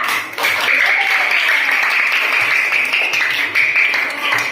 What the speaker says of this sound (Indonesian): kita beri aplaus buat teman kita